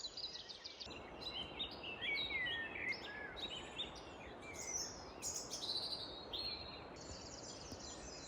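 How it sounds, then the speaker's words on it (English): A chaffinch sings on a Dartmoor walk, its bright chirping phrases repeating several times at moderate distance over a steady, soft outdoor hiss. "Also hear a chaffinch now"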